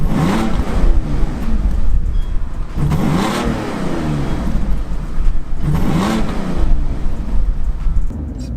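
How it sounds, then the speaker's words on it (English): An Audi A8 with a 6.0-litre W12 engine revs up loudly three times in succession, each surge rising and falling, with a rough steady idle in between. "give it a little rev"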